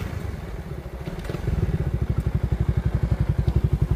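A Suzuki Raider 150 FI motorcycle at a drag race revs close by, its engine rising into a fast, pulsing putter with rhythmic throbbing beats that grow louder after a brief quieter start.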